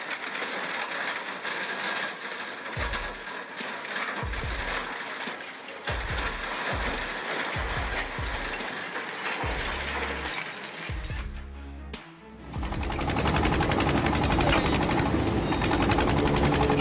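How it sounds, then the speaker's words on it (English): An Austrian-designed industrial scrap shredder rated at 65 tons per hour tears an engine apart, with loud, continuous grinding and ratcheting metal crunches, low thuds, and a heavier, denser rush of shredding near the end, with no voices. "The engine that just stood intact is torn apart in seconds under the shredder's blades"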